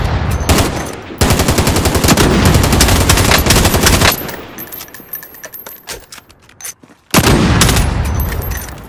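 Medal of Honor video game gunfire: loud, rapid automatic bursts rattle close by, break off into a quieter, scattered stretch, then a fresh heavy burst of shots erupts.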